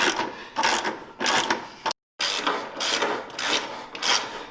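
Rhythmic ratcheting of a hand wrench on a 14mm bolt of a Yamaha Nytro snowmobile in short bursts, about six strokes with a brief pause midway, close and clear.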